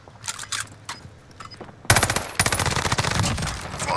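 Call of Duty gunfire on Rebirth Island: a few scattered distant shots, then a loud, rapid automatic burst of close machine-gun fire that keeps going to the end.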